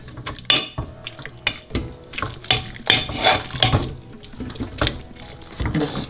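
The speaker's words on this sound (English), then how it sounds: "you just take a potato masher and just try and mash half of the dal" Cooked dal for dal makhani being mashed with a potato masher in a pot, giving close, wet squelching and knocking thuds at an uneven pace, with no voices.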